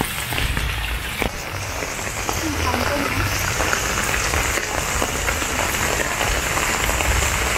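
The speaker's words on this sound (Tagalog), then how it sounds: "hindi naman malakas pero dire-diretso yung ulan" Steady, moderate rain falls without letup during a rainy Christmas in the Philippines, a continuous broadband hiss of drops on surfaces with scattered louder patters, close and even throughout, no speech heard.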